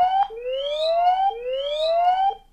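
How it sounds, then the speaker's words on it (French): Built-in siren of a WOOX R4252 outdoor solar-panel security camera, wailing in two loud rising electronic sweeps with bright harmonics, close and alone, ending abruptly. "Donc vous avez pu entendre la sirène intégrée à la caméra"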